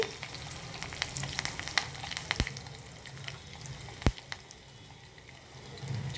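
Curry leaves sizzling in hot tempering oil for a ripe red chili pachadi, a steady crackling fry with sharp pops and spatters near at hand, fairly quiet overall and with no talk.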